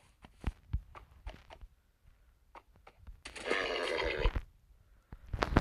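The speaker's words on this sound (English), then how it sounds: "I found a pretty speedy horse" A Minecraft horse lets out a loud, shaky whinny lasting about a second, preceded by scattered soft clip-clop hoof taps and quiet clicks. A faint tap follows afterward, with no talking.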